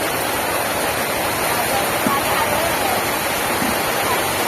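Heavy rain pours down at a market in a dense, unbroken hiss that stays loud throughout, with faint voices in the background.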